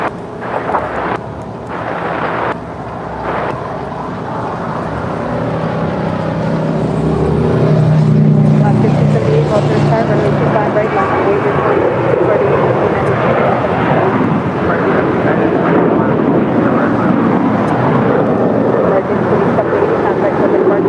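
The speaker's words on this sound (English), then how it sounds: "That is American Airlines Flight 2780 departing to Austin. It's a 5-year-old 737-800." An American Airlines Boeing 737-800, five years old, departs from LAX, its engine roar building steadily from faint to loud and holding as a broad rumble, with wind noise on the microphone and occasional voices underneath.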